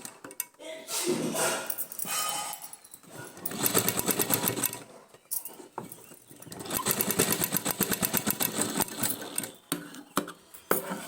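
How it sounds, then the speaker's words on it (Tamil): A sewing machine stitches a blouse, with close, fast rhythmic needle chatter running in several long bursts separated by short pauses, and a voice talking at times. "நம்ம டச் தையல் போடுறோம்ல அதுமாரி போடணும்"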